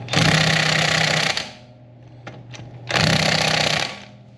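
A DeWalt power tool runs in two loud, steady bursts with a harsh, rapid buzzing whir. Each burst lasts over a second, and a quieter pause with a few faint clicks separates them.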